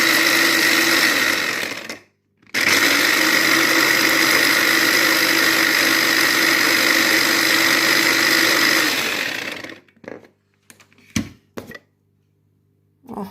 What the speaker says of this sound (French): je vais mouliner mon persil. Avec mon petit robot comme ça.